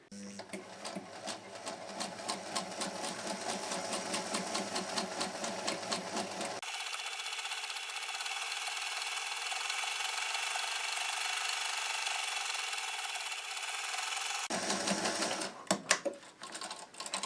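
A sewing machine stitching a cuff, a fast, even mechanical whirr of needle strokes that runs steadily, changes pitch partway through, then ends in a few clicks.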